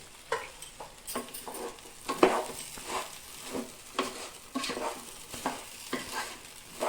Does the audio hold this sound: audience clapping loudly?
no